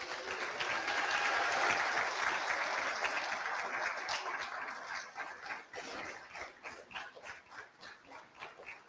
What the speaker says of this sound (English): give them a big round of applause of thanks